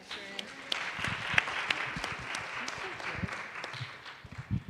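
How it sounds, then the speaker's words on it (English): An audience at a climate policy panel event applauds the panelists, steady moderate clapping with people talking and murmuring underneath. "a big round of applause for our panelists"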